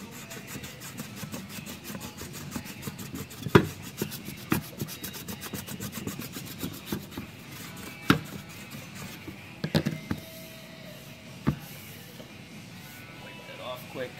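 A corner of PVC pipe rubbed across a flat clear coat finish, giving soft scraping strokes with scattered sharper knocks, fairly quiet and close, with a person talking at times.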